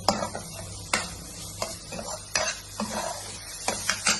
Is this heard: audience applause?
no